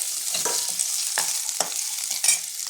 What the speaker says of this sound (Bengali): হালকা লাল লাল করে ভেজে নেবো আলুটা